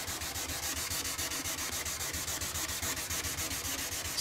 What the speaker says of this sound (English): This is like a little 1500 grit, like little nibbing pad.